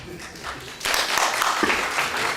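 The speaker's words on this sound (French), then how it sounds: "On l'applaudit fort" A crowd applauds the deputy mayor of Kaédi: faint murmuring gives way to a louder burst of clapping that continues steadily.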